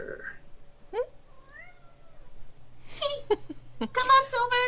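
A cat gives several meows, the first ones brief and faint, then louder and drawn out near the end, while people talk and laugh over it during a tabletop role-playing game.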